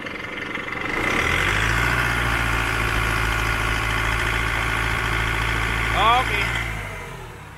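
An Isuzu 4JJ1 four-cylinder turbo diesel truck engine on a 24-volt surplus truck idles with a deep steady rumble, rising slightly as it is revved, close by, with a brief spoken word near the end.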